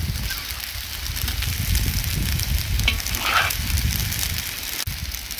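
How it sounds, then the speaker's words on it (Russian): Meat and potatoes fry noisily in a hot pan over high heat, a loud continuous sizzle and crackle with occasional scraping stirs. "И мяско, и картошку жарим на большом огне, чтобы оно не тушилось, а так подпекалось с корочкой."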